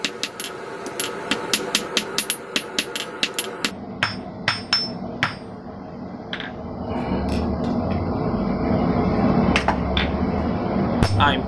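Rapid, sharp hammer strikes on hot steel while countersinking holes for a forged wall hook, a fast run of ringing metallic blows early on, then sparser hits over a rising background rumble.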